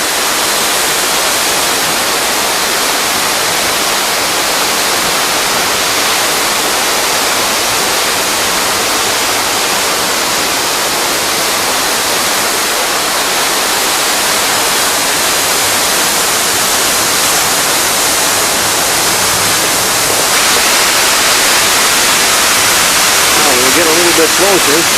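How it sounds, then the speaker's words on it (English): Steady, loud roar of pressurized water bursting up from underground at the Ragged Chutes compressed-air hydropneumatic plant, a dense continuous rush like a waterfall, with a faint voice near the end. "you can hear the roar of the water makes as it comes out from the underground"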